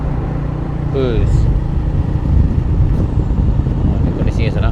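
A bus rumbles past at close range on a hill road with a loud, continuous low engine roar, a brief hiss of air brakes, and a voice speaking briefly over it.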